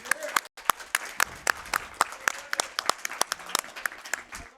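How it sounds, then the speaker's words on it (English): Steady, crisp hand clapping from a small group, sharp individual claps in a fast, uneven rhythm with faint voices underneath. "You can all give yourselves a round of applause."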